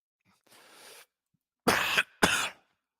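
A soft breathy exhale is followed by two loud, close coughs in a row from one person, with no talk around them.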